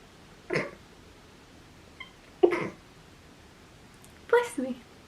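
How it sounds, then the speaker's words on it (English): Three short sharp bursts break a quiet room, the last one a full sneeze, with a small click between them. "I'm gonna sneeze."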